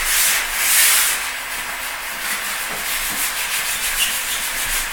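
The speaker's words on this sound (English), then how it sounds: "We're gonna do the hardwood flooring. We're gonna resand it" A sander works over hardwood flooring during a resanding job, giving a steady, close, hissing rasp that keeps going without a break.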